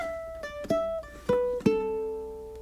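A ukulele plays a short blues lick of plucked notes, with a few sharp attacks and gently ringing tones that step downward and sustain at the end, heard alone and close.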